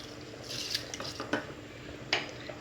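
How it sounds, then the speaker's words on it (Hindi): Rice being stirred in a steel pot of water about to boil, giving a few scattered scraping and clinking knocks of a spoon against metal over a low background hiss, close by, with no talking. "इनको किया मिक्स।"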